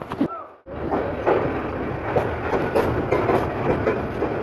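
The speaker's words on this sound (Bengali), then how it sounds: "ট্রেনটি দ্রুত গতিতে সামনের দিকে এগিয়ে চলছে" The Titas commuter train from Brahmanbaria to Dhaka runs fast along the rails with a loud, steady rumble and repeating clickety-clack of the wheels.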